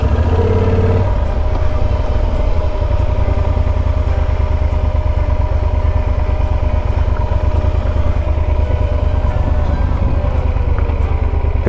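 A motorbike engine runs steadily while riding up a hillside slope on the road to Phu Thap Boek, a continuous loud low drone throughout with no talk.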